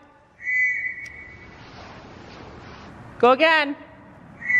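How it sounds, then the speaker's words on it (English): A whistle is blown indoors from behind a door, giving one sustained shrill tone, then a second sharp blast later, with people talking between the blasts. "then I'm going to get her to blow the whistle"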